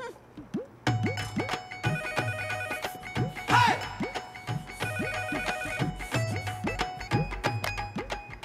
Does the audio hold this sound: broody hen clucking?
no